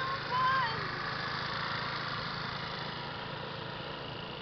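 A small Chinese scooter engine runs with a steady, buzzing drone at moderate distance, while a voice speaks briefly near the start.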